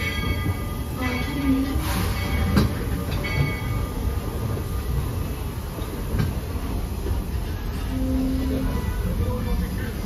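A Walt Disney World Railroad steam train rolling to a stop rumbles steadily along with rattling, clanking carriages and occasional faint wheel squeals, the noise holding constant throughout.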